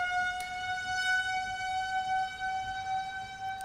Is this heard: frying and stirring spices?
no